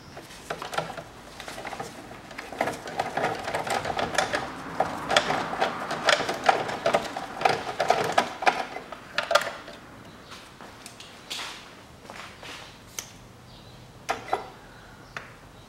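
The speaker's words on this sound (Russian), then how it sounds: "Головкой на 12 откручиваю болт крепления батареи" A 12 mm socket wrench ratchets off a car battery mounting bolt on a 2012 SsangYong Actyon 2.0 4WD, giving quiet rapid clicking bursts, close and irregular, with pauses between turns.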